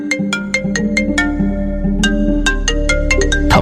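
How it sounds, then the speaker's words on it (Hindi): A mobile phone ringtone rings from inside a pocket: a repeating melodic chime of bright, evenly spaced notes over a steady tune, loud and continuous, with no talking. "उसका फोन बजने लगा"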